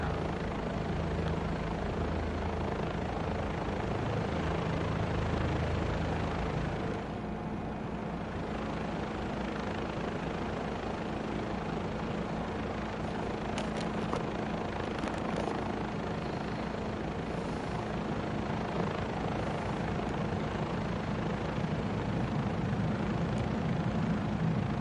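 Steady, loud rotor and turbine drone of a Bell 407 helicopter engine in Microsoft Flight Simulator 2024, a continuous low thrum with whining overtones running unbroken throughout, no voices.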